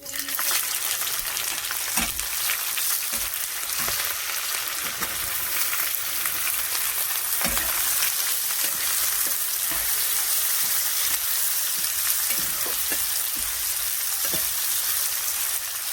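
Chopped onion frying in oil with whole cumin seeds for a chicken curry gives a loud, steady sizzle with occasional stirring clicks and spatters, with no talk.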